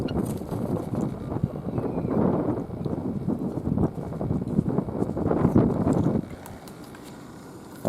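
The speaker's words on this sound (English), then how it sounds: "y'all probably can't hear me because it's windy" Gusty wind buffets the microphone outdoors on a farm, a loud rough rumble for about six seconds that then drops to a quieter breeze, with no talking.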